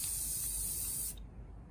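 A close, steady hiss of an aerosol spray can for about a second, then it stops abruptly, leaving quiet room tone.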